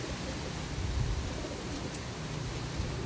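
Low, soft pigeon cooing in steady outdoor wind noise, with no talking.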